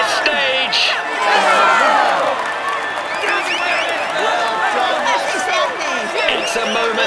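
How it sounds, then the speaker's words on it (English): A roadside crowd claps and cheers loudly for a Tour de France rider at a 2021 stage finish. The applause and shouting hold steady, with a commentator talking over the noise. "Come on, let's applaud him once more."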